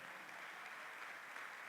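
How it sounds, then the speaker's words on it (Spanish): Congregation applause during a Spanish-language church service, a steady even wash of clapping held at low level throughout the brief moment with no voices over it. "Denle un aplauso al Señor en esta mañana."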